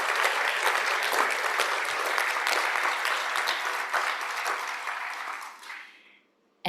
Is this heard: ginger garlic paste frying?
no